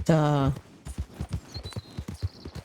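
In Red Dead Redemption 2, a horse's hooves clip-clop in a brisk, even walking rhythm close by, following a short tonal sound at the start, with someone speaking over the steps.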